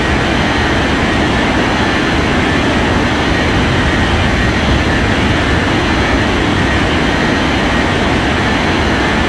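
A jet airplane takes off in an air traffic control video game, a loud, continuous broadband engine roar that stays steady throughout.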